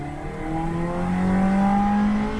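Small sports car, a Ferrari or Fiat X19, accelerating in gear, its engine note rising steadily in pitch and loudness from inside the cabin, alone without talk.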